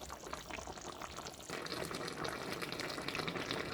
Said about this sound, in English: so our fish is simmering